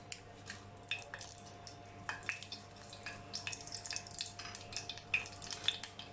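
Cinnamon sticks and torn dried chillies fry in sesame oil in a pan for mutton uppu kari, giving a quiet, sparse crackle with scattered small pops and ticks over a low background hum.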